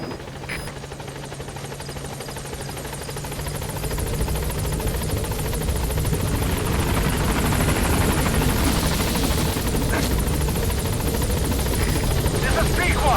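Helicopter in Metal Gear Solid V arriving at a landing zone, a steady loud rotor thrum and engine whine that grows louder and nearer, with a radio voice speaking over it.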